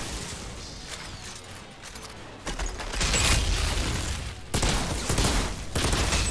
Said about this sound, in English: Get some shots on target here.